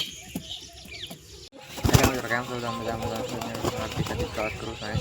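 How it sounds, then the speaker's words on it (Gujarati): Pigeons coo in a pen where pairs have just been put together, with soft wing flaps near the start and someone talking over the birds for most of the stretch. "કબૂતર સણ સણે છે"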